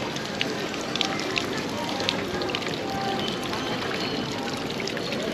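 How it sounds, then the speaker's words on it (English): Waterfall in a town in the Balkans, a steady rushing and splashing wash of water heard at moderate distance with faint crackles in the background. "That's a waterfall."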